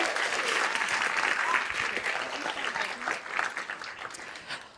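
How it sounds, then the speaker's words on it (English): A crowd applauds steadily for several seconds, the clapping dense and fairly close, tapering slightly toward the end with some voices mixed in. "Round of applause for the bakers."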